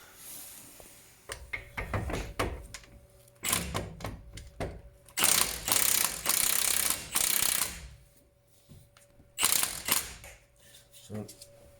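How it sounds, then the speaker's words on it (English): A hand ratchet turns the control arm pinch bolt on a Mazda 3, rattling in loud, rapid clicking bursts separated by short pauses. "So the bolt itself is turning, so we will need a wrench."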